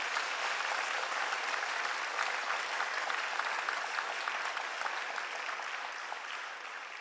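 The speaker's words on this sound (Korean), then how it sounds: "다시 하나님께 영광의 박수 올려드리겠습니다" A church congregation claps steadily for two choirs after a Christmas cantata, a dense, continuous burst of applause filling the room for the whole stretch, tapering only slightly at the close.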